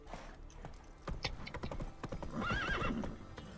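Roach, the horse in The Witcher 3, clip-clops with several close, crisp hoof strikes followed by a clear, wavering neigh near the end.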